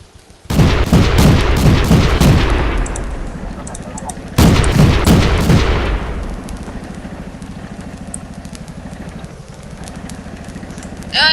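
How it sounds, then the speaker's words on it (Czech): Heavy booming tank cannon blasts in World of Tanks, one at the start and another midway, each followed by a long rumbling decay over an engine drone. "Ale někdo po mě střílí."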